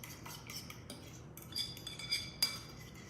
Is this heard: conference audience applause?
no